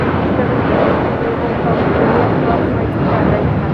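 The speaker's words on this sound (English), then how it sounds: "1488 taking off to Newark, 757-200 in the Star Alliance livery" A United Airlines Boeing 757-200 in Star Alliance livery takes off at LAX bound for Newark. Its engines give a loud, steady, broadband roar with no break and no talk over it.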